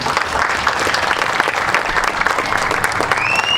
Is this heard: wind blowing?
no